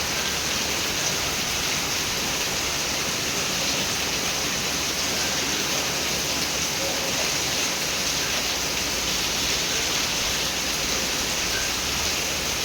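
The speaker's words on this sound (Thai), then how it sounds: "มาเบิ่งฝนน้ำกัน" Rain pours over rice fields and strikes a set of stairs, a dense, even hiss of drops that stays loud and steady from start to finish with no talking.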